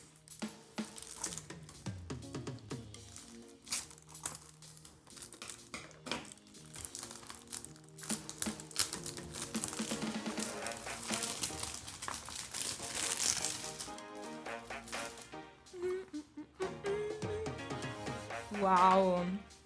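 Chocolate wrapper crinkling and rustling as Bud Spencer chocolates are unwrapped, crackling bursts rising and falling close up over about twenty seconds, with brief voice sounds near the end.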